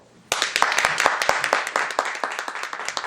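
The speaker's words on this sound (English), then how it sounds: "how many clap if you believe Nelly" Clapping starts abruptly and continues as a cluster of hand claps, fairly close and lively, the individual claps audible within the scattered applause.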